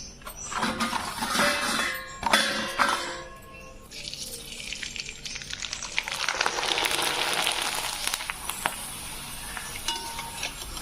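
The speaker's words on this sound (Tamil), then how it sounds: "அப்பளம் பொறிச்சிட்டு வந்தாச்சு" Big homemade rice appalam frying in hot oil, a constant bubbling sizzle like rain with occasional light clinks of a utensil, swelling and easing over several seconds.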